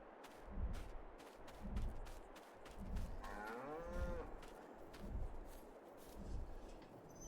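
Cows moo in the Farming Simulator 22 video game, several long lowing calls over a rhythmic, thumping background of farm ambience, with one clear moo standing out in the middle.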